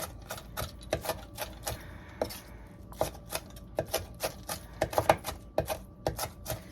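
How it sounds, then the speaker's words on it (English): Onions and pancetta chopped together with a knife on a cutting board: quick, fairly even taps in steady bursts, close and moderately loud, with no talking. "chop up these onions. I'm going to add this pancetta to it. Chop that all up together."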